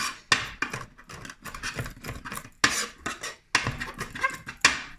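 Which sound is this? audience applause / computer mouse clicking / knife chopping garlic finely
knife chopping garlic finely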